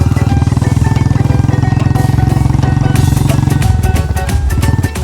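A heavy single-cylinder Royal Enfield Bullet motorcycle engine thumps loudly and steadily at close range during a stunt performance, then the rhythm shifts as the throttle changes near the end.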